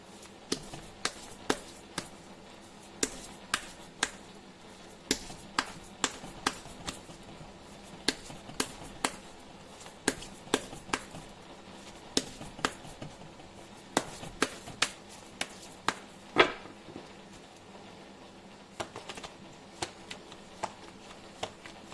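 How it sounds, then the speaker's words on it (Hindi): Tarot cards are shuffled by hand in a long run of sharp, close slaps and taps, irregular but steady riffs repeated over and over at a quiet level. "मैं कर लेती हूँ कार्ड की शफलिंग।"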